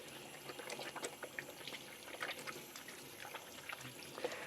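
Water runs steadily over hands, rinsing away a metered pump of workshop hand cleaner at a sink, a soft continuous splashing and trickling that stays fairly faint throughout.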